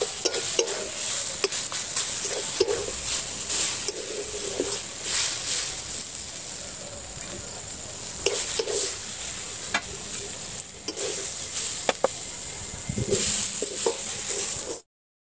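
Carrot filling stirred dry in a kadai (wok) with no water added, the spatula scraping and shuffling in a steady irregular rhythm over a continuous soft sizzle, close and fairly loud with no voices.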